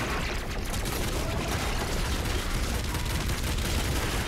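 Rapid dense gunfire from the video game Doom Eternal, a continuous loud barrage of overlapping blasts and mechanical clatter with no pauses.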